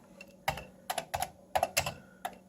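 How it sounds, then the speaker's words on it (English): Someone types one-handed on a Commodore 64 computer keyboard: sparse, uneven clusters of sharp key clicks, close and clear, with short pauses between bursts. "it's that one-handed typing again"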